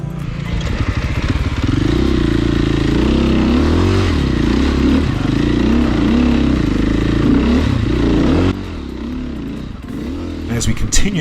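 An enduro motorcycle on a muddy trail with tricky climbs drones loud and close, its engine rising and falling steadily under load, then shifts tone near the end with some clatter.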